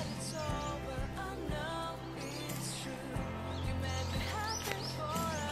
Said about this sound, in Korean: 새소리가 나네요.